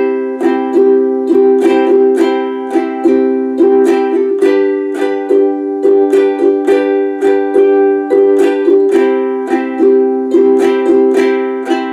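Ukulele strummed at a brisk tempo in a steady down-and-up pattern, with loud, even chord strokes ringing continuously and no voice over them.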